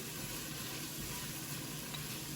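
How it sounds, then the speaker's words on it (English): Steady, faint sizzling of leftover turkey pot-pie filling frying in butter in a pan, a continuous crackling hiss with no pauses or voices. "This smells so good frying up."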